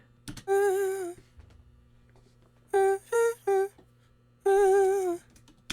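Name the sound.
dry home-recorded vocal sample, no effects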